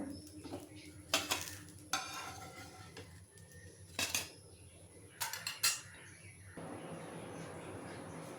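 A spatula scrapes and knocks against a frying pan in a few sharp bursts over faint sizzling as a fried potato sandwich is lifted out, followed by a steady low background hum.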